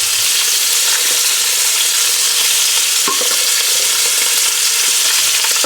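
Bacon and onions fry in oil for pork belly and red kidney beans, a loud, constant hissing sizzle with a few stirring knocks, close up and without talk.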